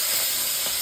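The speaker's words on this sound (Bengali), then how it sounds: "আজকে রুই মাছ ভাজছি" Rohu fish from a pond, coated in turmeric, frying in hot oil in a kadai, a loud, steady, close-up sizzle and hiss throughout.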